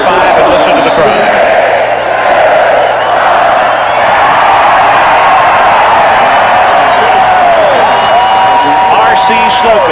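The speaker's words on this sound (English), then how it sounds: "listen to the crowd" A football stadium crowd roaring and cheering during a 1989 LSU at Texas A&M college game, a loud, dense, sustained wash of noise with a commentator's voice audible above it.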